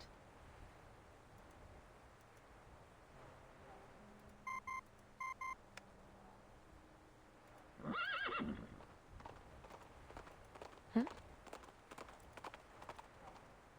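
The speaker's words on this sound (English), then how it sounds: "The communicator's noise startles the nibbling horse. It lifts his head and bolts into the distance." A horse in the video game Reverse 1999 whinnies sharply, then its hooves clip-clop away into the distance, following a few short electronic beeps from a communicator over quiet ambience.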